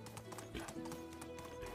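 Horse hooves clip-clop at a steady walking rhythm while riding at night in the medieval game Medieval Dynasty, close and clear, with a brief whinny-like tone mixed in.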